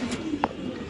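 Pigeons of the Swift breed coo in a bird market, one short soft call standing out near the middle of the second over a low steady background hum.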